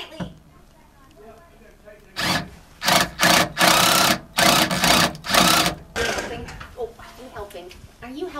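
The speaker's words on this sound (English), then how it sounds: "Let me get a couple more cranks on it." A wrench cranks a seat bolt tight during a skoolie bus build, giving several loud rasping bursts in quick succession with short pauses between them, close up after a quiet start.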